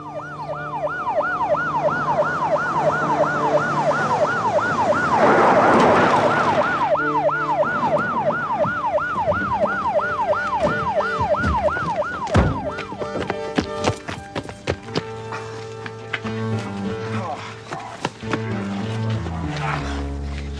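Police car siren wails in a steady rising-and-falling cycle, loud and close, with a brief rumble midway, then fades into clatter and scattered knocks after the wailing stops.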